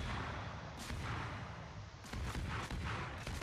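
Rapid naval gunfire from the destroyer Forrest Sherman in a video game, with heavy booming shots fired roughly every second in a steady rhythm, loud and close with rolling echoes between rounds.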